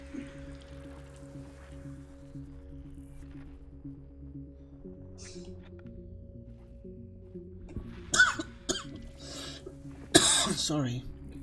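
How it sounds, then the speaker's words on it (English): A man coughing during a gaming live stream, a few sharp bursts near the end over a quiet electronic hum and faint music tones. "Bit of a cough."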